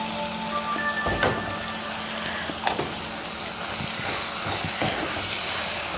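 Chopped tomatoes hit a pan of sizzling spring onion egg curry with a soft thump, then a steady, close frying hiss and crackle continues with small pops.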